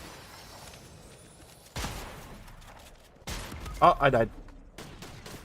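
Two sharp shotgun blasts in a video game, loud and close, spaced about a second and a half apart over a low background. A player speaks briefly right after the second shot.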